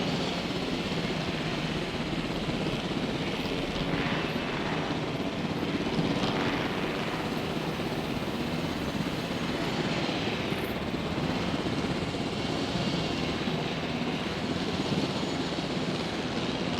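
A helicopter flies very low overhead, its rotor and engine making a loud, continuous, even drone that holds throughout with no talking.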